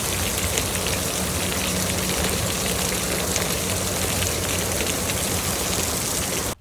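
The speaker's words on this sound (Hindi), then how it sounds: "आप लोग ना बस ये बारिश की आवाज़ सुने" Steady, heavy rain falls on a casual day in Oman, a loud and continuous wash of drops that stays even from start to finish, with no talking over it.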